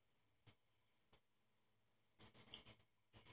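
Scissors trimming washi tape on a cardboard dollhouse miniature mirror: two faint isolated snips, then a quick close burst of crisp cuts and one more snip, in a quiet room.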